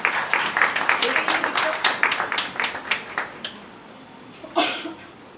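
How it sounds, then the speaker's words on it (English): An audience at an INIFD center opening celebration claps in a moderate burst of applause that thins and fades out, followed by a single brief clap near the end. "Give applause."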